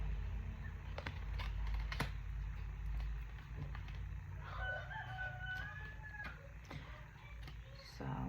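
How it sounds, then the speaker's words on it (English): Several roosters crow several times at a distance, the calls drawn out and repeated over a steady low background hum, with a few sharp knocks. "my roosters are going crazy."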